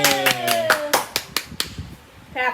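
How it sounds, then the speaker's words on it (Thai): A 15-month-old toddler claps small hands in a string of quick, close, uneven claps while an adult sings and talks nearby, a short pause before a voice returns. "เก่งมากเลยปรบมือ"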